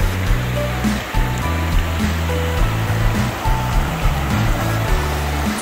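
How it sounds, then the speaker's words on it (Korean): Mountain valley stream on Gwangdeoksan flowing steadily after heavy rain, a continuous close rushing wash of water with low rumbling turbulence throughout. "계곡물을 시원하게 세수하며"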